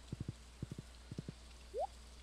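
Horse hooves clip-clop in three quick groups of three in Stardew Valley, close and clear, ending with a short rising chime; no talking.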